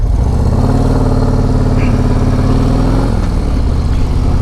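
A 2024 Harley-Davidson CVO Road Glide motorcycle engine runs loud and steady while the bike is being ridden, with a smooth shift partway through and no voices over it.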